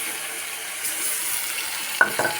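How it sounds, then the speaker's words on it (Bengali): Water is poured into a pan of fish curry with tomatoes, giving a soft, steady hiss and sizzle, with a couple of brief splashes near the end. "এখন কিন্তু আমি জল দিব।"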